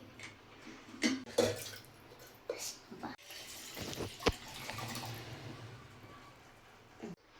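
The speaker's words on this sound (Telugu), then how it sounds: "నేను వాటర్ దీనిలోకి వేసుకున్నా" Cool water runs and splashes into a jug while a summer drink is being made, with uneven gushes and drips close by and a voice speaking faintly in the background.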